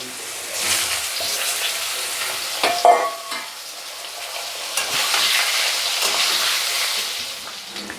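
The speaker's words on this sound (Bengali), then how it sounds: "এবার আলুগুলো দিয়ে দিলাম। আলুগুলো ভাজা ভাজা হবে।" Diced potatoes frying in hot oil seasoned with panch phoron in a Bengali home kitchen, giving a steady, loud sizzle with scraping stirs and a sharper crackling burst near the middle.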